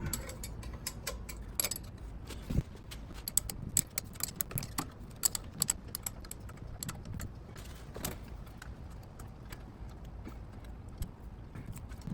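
A 1/2 inch wrench tightening a bolt on a carburetor swap for a 1966 Mustang 200ci inline six, rapid ratcheting clicks and small metallic taps, close and fairly quiet, no voices.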